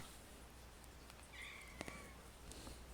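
A single faint cat meow, brief and tonal, rises over steady low background noise with a couple of soft clicks nearby.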